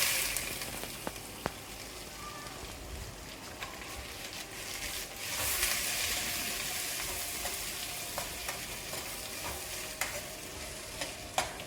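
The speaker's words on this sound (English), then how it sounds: "now add around 5 to 6 medium sized chopped onions into the pan" Chopped onions, five or six medium ones, stirred in a pan while cooking for a spicy mutton curry, making a steady broadband sizzle with scraping stir sounds and occasional clicks throughout, fairly close and moderately quiet.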